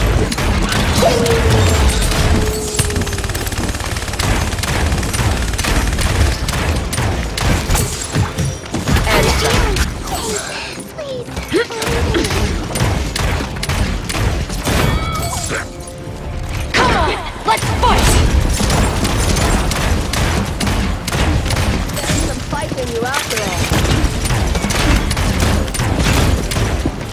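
Sustained enemy gunfire in a Paladins training siege match, dense overlapping shots and impacts that run almost continuously and loudly, with brief lulls, amid game effects.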